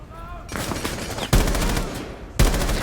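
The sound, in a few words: full-auto gunfire in the video game Rainbow Six Siege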